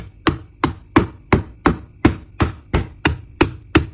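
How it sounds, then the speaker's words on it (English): A knife chops cucumber into bite-sized pieces for a tofu skin salad, giving ten evenly spaced, crisp thwacks against a cutting board in a steady rhythm, close and clear with no talking. "Then cut it into bite-sized pieces"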